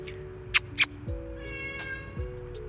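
A cat meows in a series of drawn-out, wavering calls close by, over a steady background hum, with a couple of sharp clicks near the start.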